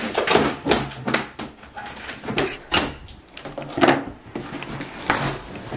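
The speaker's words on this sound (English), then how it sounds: "opening up the drawers" Wooden cot drawers being pulled open and handled during unpacking of a baby's cot, giving a series of close knocks, slides and wooden clunks at an irregular rhythm, with faint voices in the room.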